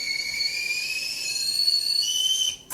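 A kettle whistles steadily at a high, piercing pitch, loud and sustained before cutting off abruptly near the end.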